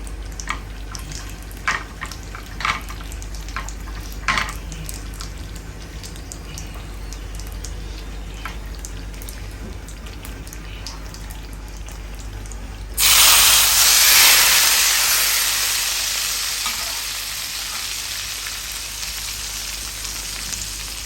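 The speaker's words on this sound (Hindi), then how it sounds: "अब मैं तड़का इसके अंदर लगा रही हूँ" Hot tadka poured into kadhi, a loud sudden sizzle and hiss that bursts up after quiet kitchen clatter and slowly fades as the spitting oil settles.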